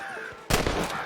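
A single sharp gunshot rings out in Red Dead Redemption as a player fires at flying birds, a sudden loud broadband crack in the middle followed by a lingering rumbling tail.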